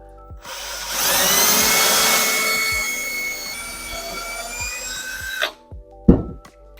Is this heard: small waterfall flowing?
no